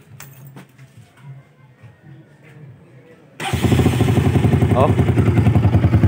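A Bajaj NS200 motorcycle fires up after quiet talk, its engine catching suddenly and settling into a loud, close, steady idle with a rhythmic pulse, a short exclamation heard near the start.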